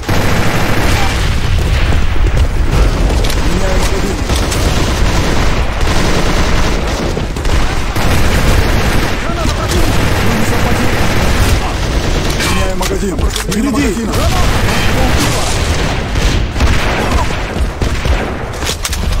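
Dense grenade blasts and rapid gunfire from a combat round in the shooter game AVA, loud and continuous with booming hits and bursts throughout, with voices calling out over the fighting.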